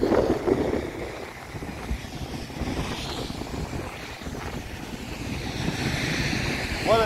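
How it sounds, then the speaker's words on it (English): Wind gusting across the open grounds of Kilimanjaro Airport in Tanzania, a continuous rushing roar that rises and falls slightly, with a faint distant engine-like hum mixed in and no speech. "What a nice windy day."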